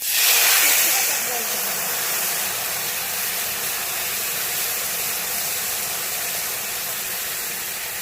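Chopped onions in a hot pan as water is poured in, setting off a loud steady sizzling hiss that bursts up at the start and then holds, with no talking.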